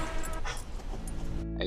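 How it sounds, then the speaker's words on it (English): A dog gives a few short whimpers and yips close by inside an RV, brief and fairly faint, with a little background noise around them. "I'm gonna let these dogs out."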